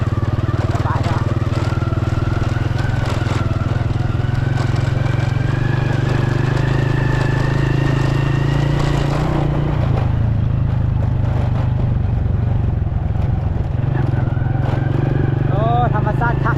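A motorbike ridden along a rural road near Sam Tai in Houaphanh province, Laos, its engine a loud, steady close drone throughout with a voice talking over it.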